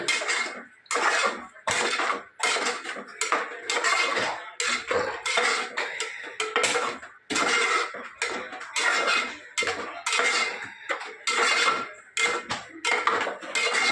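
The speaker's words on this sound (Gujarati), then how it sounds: "હવે આપણે એના અંદર નાખી દઈએ દાળ, જે મગની દાળ બનાવી દીધી. સરસ મિક્સ કરી લઈએ." A spoon stirring cooked moong dal into spinach in a pot, giving a continuous run of rhythmic scraping and knocking strokes, close and fairly loud, with no voices.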